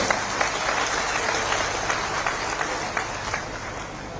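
Steady applause from a crowd at an outdoor state celebration event in Una, Himachal Pradesh, dense clapping that holds at an even level throughout with no pauses.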